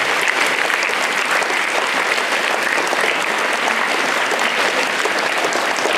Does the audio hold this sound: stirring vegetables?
no